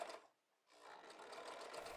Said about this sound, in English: I'm using my sewing machine to sew on the words lump of coal